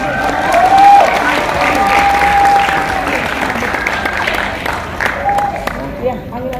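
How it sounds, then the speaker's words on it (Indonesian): Applause from a school assembly crowd for a student team at a junior high class leader's speech event, a broad steady clapping wash with a few whistles, continuing throughout. "Mari kita beri aplaus yang meriah kepada tim BT Retro Fail."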